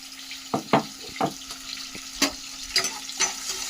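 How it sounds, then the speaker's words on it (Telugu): An onion, tomato and spice paste fries in a pan, with scraping stirs and soft sizzling bursts recurring every second or so under a faint steady hum, close and moderately loud, no voices. "ఇదైతే కొంచెం ఎర్రగా వచ్చే వరకు వేయించుకోవాలి"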